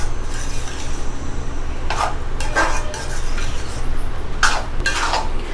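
A spoon stirs white sauce into a vegetable pie filling in a pan, making a steady low sizzle broken by a few distinct scraping strokes against the metal.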